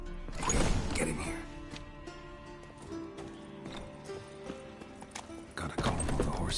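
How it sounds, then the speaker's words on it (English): Horses in a stable in The Witcher 3 whinny and stamp, hooves clopping and neighs rising in bursts near the start and end over a dim game backdrop. "Gotta calm all the horses before they wake the guards."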